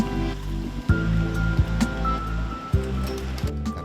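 The swift current of the Cisadane river rushes and churns continuously, with loud, close water noise and a few heavier sloshing surges, and no one speaking.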